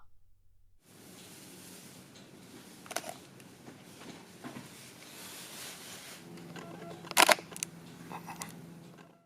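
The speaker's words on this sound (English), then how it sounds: "here's the shutter sound compared to my X-Pro2" Leica M10-P and Fujifilm X-Pro2 shutters fire in turn: faint, crisp mechanical clicks over quiet room hiss, with a sharper, louder click cluster near the end.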